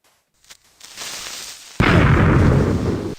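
A Minecraft creeper explosion: a brief hiss builds up, then a loud, close, rumbling blast bursts and decays over about a second and a half.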